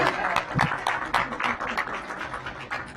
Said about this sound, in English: that deserves a round of applause there, just getting through that.